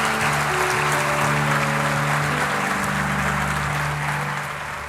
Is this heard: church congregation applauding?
yes